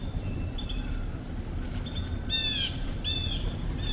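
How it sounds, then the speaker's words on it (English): A loud bird calls in two bright, rapid bursts of chirps over steady outdoor background noise. "And whatever loud bird that is talking."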